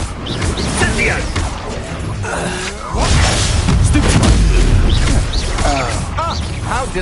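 An Incendio fire spell is cast in a video game, a roaring burst and crackling blaze swelling midway through a busy mix of whooshes, mechanical clatter and impacts, with a voice talking over the effects.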